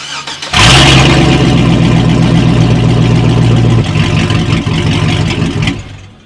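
A pickup truck engine cranks and catches with a loud burst, then idles roughly and loudly with an uneven sputtering, spitting rhythm before settling and fading at the end.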